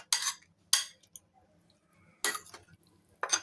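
A spoon clinking against a bowl while seed mix is stirred: four sharp, separate metallic clinks, close and crisp, with near silence between them.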